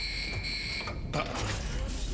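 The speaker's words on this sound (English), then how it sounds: "Carbon dioxide alarm. High CO2 in which module? Not a drill." An electronic carbon dioxide alarm from a TV show beeps with a sustained high-pitched tone, then cuts off abruptly as a rush of broadband noise takes over.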